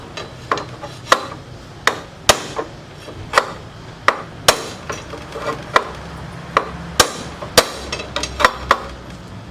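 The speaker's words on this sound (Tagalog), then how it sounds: "So gagamit lang tayo ng martilyo, tapos yung mahabang bakal na yan. Yan, para pukpukin to." A hammer strikes a long steel rod to knock out a bearing race on a Honda XRM 110, giving about twenty sharp metallic blows at an uneven pace, close and loud over a low background hum.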